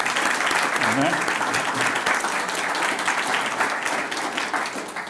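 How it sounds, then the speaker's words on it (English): Steady applause from a crowd at a clubhouse ribbon-cutting fills the room for several seconds, dense and even, tapering slightly toward the end. "We could give them a little round of applause."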